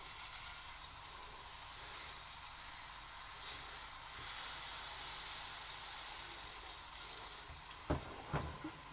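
Smash burger patty pressed into hot oil in a frying pan, a soft continuous sizzle and hiss at low level, with a couple of brief knocks near the end; no talking.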